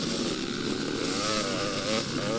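High, buzzing two-stroke motorcycle engine whine as it races past on a dusty track, steady and fairly loud with wavering pitch, no voices.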